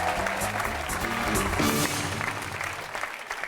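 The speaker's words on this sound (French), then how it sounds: "On applaudit très fort, Catherine." Studio audience applauding a contestant named Catherine on a French TV game show, a dense, steady wash of clapping filling the room throughout, with music underneath and a short fade near the end.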